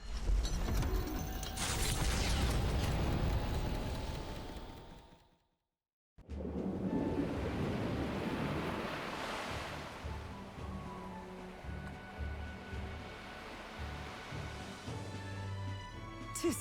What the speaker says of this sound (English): I'll get us through these waves to Verga Island, gently as can be.